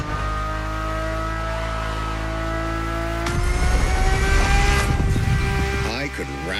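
A Ferrari supercar engine in The Crew Motorfest drones steadily from inside the cabin, then swells in a louder, rougher surge partway through before easing slightly near the end.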